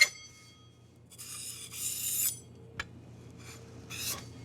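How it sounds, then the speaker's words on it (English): Croissant dough being trimmed at the outer edges with a knife, giving short scraping, rasping strokes in bursts on a quiet work surface, with a brief sharp tap partway through. "Trim the outside edges."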